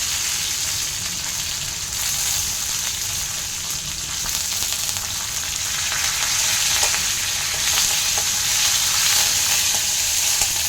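Garlic and curry leaves sizzle in hot oil for a coastal Tulu-style tempering, a loud, steady, crackling frying hiss close by with no talking.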